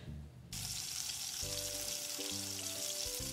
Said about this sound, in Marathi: आता 2 ते 3 मिनिट लसूण अद्रक पेस्ट आणि कांदे शिजू देऊ.